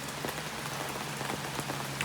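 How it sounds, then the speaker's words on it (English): Rain patters steadily on a canopy at a gold-panning site at Thermal City Gold Mine, a dense, even hiss of close drops with a few sharper taps and a faint low hum beneath. "it just started raining here. As you guys could see, the mountain in the background, it's raining. And if not, you guys could hear it on the canopy here"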